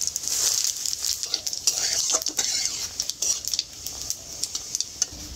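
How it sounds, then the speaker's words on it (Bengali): Two dried red chillies and panch phoron spluttering in hot oil in a kadai for Bengali mango dal, a steady close sizzle with crackling pops and a spoon stirring and scraping the pan. "এইবারে দিয়ে দেবো কড়াইতে তেল, এর মধ্যে দিয়ে দিচ্ছি 2 শুকনো লঙ্কা আর দিয়ে দেবো 5 ফোড়ন।"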